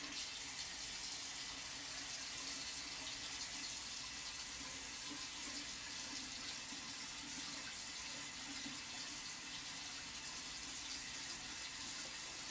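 A tap runs steadily into a sink during incision cleaning, a constant, close hiss of flowing water with no break and no talking.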